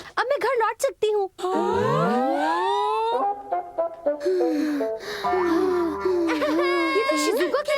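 A cartoon child character cries and wails loudly in a Hindi-dubbed animated episode, with sobbing pitch swoops running almost continuously alongside other voices and sounds.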